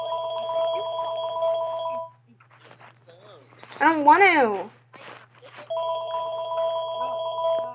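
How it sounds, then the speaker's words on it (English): A telephone bell rings in two bursts with a gap between them, and a person speaks during the pause. "My phone is ringing."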